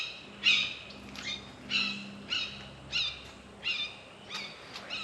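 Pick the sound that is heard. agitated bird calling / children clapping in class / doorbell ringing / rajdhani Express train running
agitated bird calling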